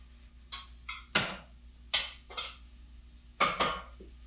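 A metal utensil clatters and scrapes against a pot while herbs and seasonings are mixed with vegetables, giving about six sharp, close knocks spaced irregularly with no talking.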